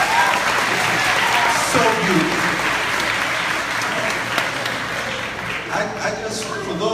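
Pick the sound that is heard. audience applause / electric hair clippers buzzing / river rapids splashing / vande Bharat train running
audience applause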